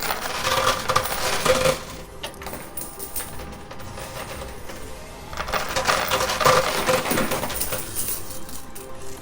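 Quarters clink and cascade in a high limit coin pusher stacked with a poker chip tower, in two bursts of rattling coins against steady arcade machine hum.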